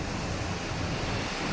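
Floodwater pours through the opened gates of Khadakwasla dam after a night of rain, a constant broad roar of gushing water heard from nearby, unbroken and without talk.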